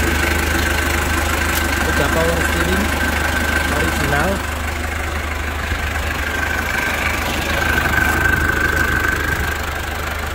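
A 1982 Toyota Land Cruiser BJ40 diesel engine idling steadily nearby with a low, even rumble, while someone talks over it.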